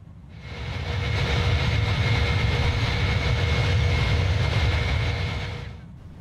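An iniBuilds A310 airliner climbing in Microsoft Flight Simulator gives a steady, loud engine roar with a faint whining tone that swells in, holds evenly and then fades away.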